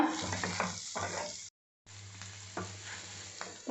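Potatoes frying in oil until crisp make a low, steady sizzle with a few stirring scrapes, cut off by a brief full silence partway through before the frying resumes.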